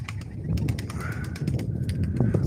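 Pigeons at a live pigeon auction for game birds make soft low cooing and rustling, with sharp wing flutters and clicks over a busy, steady background, close by.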